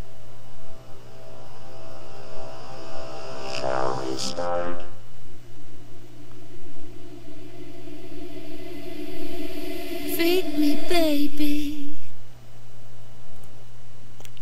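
A reverse reverb effect made in FL Studio 9: swelling, reversed washes of sound that build toward sharp hits, heard over a steady low hum with no talking.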